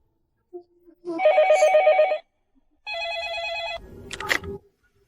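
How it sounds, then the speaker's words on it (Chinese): A telephone bell rings indoors in two clear bursts, each a sustained trilling ring, with a short pause between them. A brief rustle or clatter follows, as if the receiver is picked up. "三小姐，是您的电话。"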